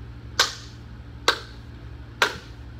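Three sharp hand claps follow a steady beat-map exercise, evenly spaced about a second apart, crisp and close over a faint low background hum.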